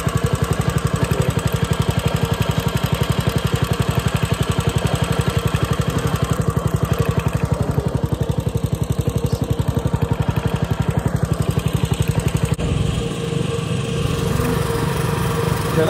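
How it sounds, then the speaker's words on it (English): A belt-drive mud motor boat engine runs in a fast, steady chugging putter, loud and near, with a slight change in tone toward the end. "The boat engine."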